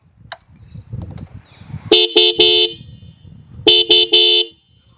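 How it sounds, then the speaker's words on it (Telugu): A Bajaj Pulsar 220 motorcycle horn honks loudly up close in two bursts of three short beeps each, with a low engine hum underneath. "హార్న్ యొక్క లౌడ్నెస్ అనేది ఒకసారి చెక్ చేద్దాం."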